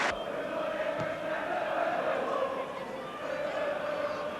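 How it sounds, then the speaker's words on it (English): A distant football crowd applauds for about four seconds at an Everton v Spurs match after goalkeeper Southall's save, a steady wash of clapping and murmur with no sharp individual claps. "the goalkeeper gets applause for the second save"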